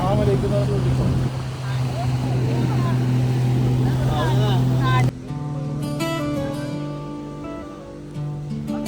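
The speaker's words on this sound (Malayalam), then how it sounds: "അതെ സംഭവം എങ്ങനെയുണ്ട് ബോട്ട് യാത്ര?" A motorboat ride on open water in Oman: a steady, droning engine hum fills the first half, then the sound shifts to a lighter mix of tonal sounds and voices over the running boat.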